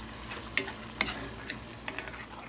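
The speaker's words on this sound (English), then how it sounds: "I'm going to let this simmer for about 5-6 minutes" Meat sauce for spaghetti simmering in a pan, a low steady bubbling hiss with a few soft pops and faint clicks scattered through it, fairly quiet and with no one talking.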